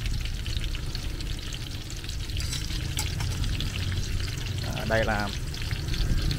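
Two bananas in batter fry in oil at a roadside stall, a steady, dense sizzle lasting throughout at moderate level, with a brief voice over it near the end.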